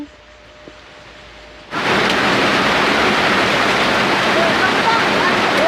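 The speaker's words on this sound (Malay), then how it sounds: "Lo Ben hujan" Heavy rain suddenly bursts into a loud, dense, steady hiss after a quiet start, continuing unbroken to the end.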